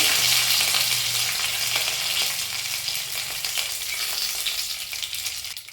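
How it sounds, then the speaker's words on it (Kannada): Mustard seeds and curry leaves crackle and sizzle in hot oil in a pan, a steady dense frying hiss with scattered pops throughout, close and alone without talk. "1 ಸ್ಪೂನ್ ಸಾಸಿವೆ ಹಾಕ್ಕೊಳ್ತೇನೆ, ಹಾಗೆ ಕರಿಬೇವು,"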